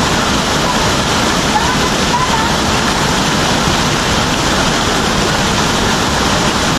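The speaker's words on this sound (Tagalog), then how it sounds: "makita na sa unahan no ang ikalima nga falls na nindot pud kaayo ug okay pud kayo ang iyang formation" The fifth falls at Buluan Falls in Marilog District, Davao City, a loud, steady, broadband rush of falling water filling the whole stretch without a break.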